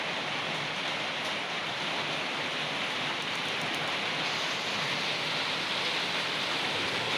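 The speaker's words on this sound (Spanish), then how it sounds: "aquí en Medellín está cayendo un aguacero muy fuerte" A heavy rain downpour in Medellín, a dense steady roar of water pouring down, continuous and loud with no talk.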